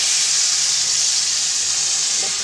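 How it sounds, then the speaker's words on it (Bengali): Warm water poured into a hot pan of taro stolon curry sets off a steady, bright sizzle that holds evenly for the whole stretch, close up and with no voices. "গরম জল করে রাখছিলাম, হালকা গরম জল দিলাম একটু"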